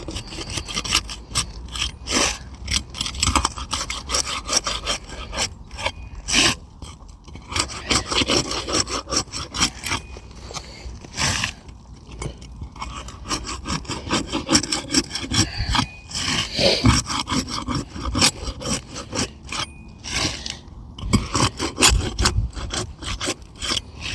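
Utility knife dragging through an asphalt roof shingle along the tar line, a steady close rasping scrape that repeats stroke after stroke with no talking.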